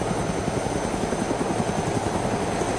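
A helicopter in DayZ thrums with steady rotor chop and engine drone, close and continuous, with no talk.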